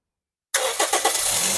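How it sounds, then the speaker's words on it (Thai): A 2009 Toyota Vios with a 1.5 engine cranks and catches after a moment of silence, settling straight into a smooth, loud, close idle. "อ่ะฟังเสียงเครื่องหน่อยครับ"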